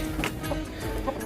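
Chickens on a poultry farm give a few quick, soft clucks, close by, in a brief moment with low background rumble.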